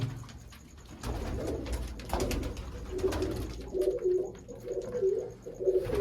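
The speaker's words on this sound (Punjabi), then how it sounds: "ਆ ਕਬੂਤਰ ਹੀ ਹੈਗੇ ਆਪਣੇ ਕੋਲੇ" Repeated low throaty cooing from pedigree pigeons close by, coming in rhythmic bursts that grow clearer toward the end, with no speech.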